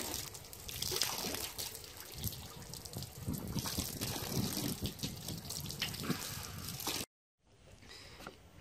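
Running water rinses scaled, gutted ballyhoo fish in a steady, close splashing stream, like a faucet over a sink, before cutting off abruptly near the end.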